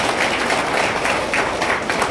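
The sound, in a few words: audience applauding loudly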